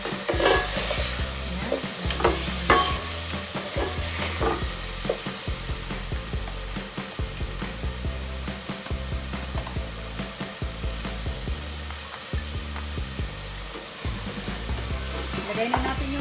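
Pork pieces sizzle and fry in a pan for sinigang while being stirred, with steady crackling and repeated scraping strokes throughout; one brief spoken word.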